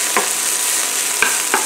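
Oil sizzles loudly in a pan while naan pizza is made, a constant close crackling hiss broken by three sharp clicks of utensil against pan, with no talking.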